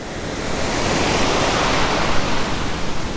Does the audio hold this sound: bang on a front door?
no